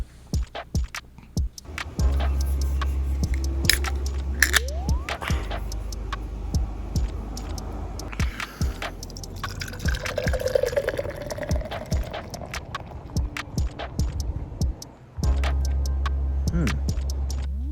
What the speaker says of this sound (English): let's not waste any more time and crack this open